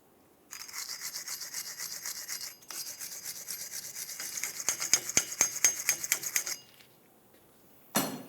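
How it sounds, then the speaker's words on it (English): A brush scrubs the axle mating surface during a rear brake job on a 2003-2011 Mercury Grand Marquis: rapid, close back-and-forth rasping strokes in bursts, with a brief pause midway and a sharper scrape near the end. "clean up the mating surface on the end of the axle where your brand new rotor is going to sit"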